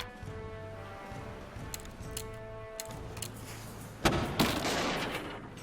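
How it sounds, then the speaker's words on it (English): Cannon fire strikes an enemy ship in a naval video game, with sharp cracking shots over a humming background and a louder impact burst near the end. "Another hit on their ship, breaks a cannon."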